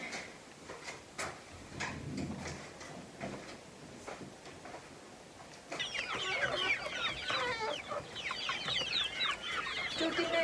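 Chickens cluck and chatter close by, faint and scattered at first, then a dense, busy burst of overlapping clucks through the second half.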